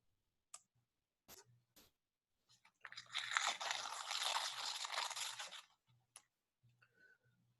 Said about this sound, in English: It sounds like a stick hitting the piñata.